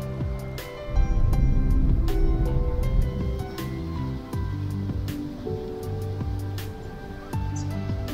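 Water rushes steadily through the Derwent Water overflow in Cumbria's Lake District, a continuous broad roar heard close by with no talking over it.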